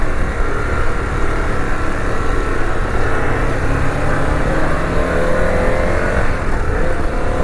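Harley-Davidson Pan America motorcycle riding, a steady loud engine drone mixed with heavy wind rush, rising slightly in pitch toward the end as it accelerates, with no voices.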